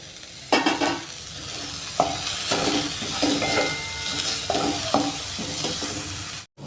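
Carrots and peas sautéing in a pan for ragi soup, a loud close sizzle with repeated spatula scrapes and stirring knocks at an uneven pace, with no talking.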